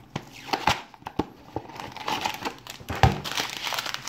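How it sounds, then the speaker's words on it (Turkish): A 70-gram plastic packet of Porçöz drain opener is torn open and handled, giving close, irregular crinkling and crackling bursts over about four seconds with no talking. "Porçözü açalım."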